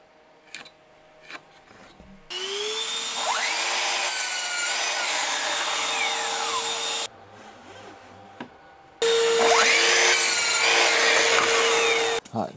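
A miter saw cuts planed wood strips to length in a workshop: two loud, sustained cutting runs with a steady motor whine, separated by a quieter pause with faint knocks, close by and alone.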